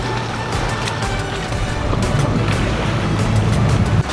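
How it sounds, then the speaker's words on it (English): A speedboat running near the Maldives airport on its way to a resort, with a steady loud engine drone mixed with water wash and wind across the whole stretch. "that's the speedboat going to different resort"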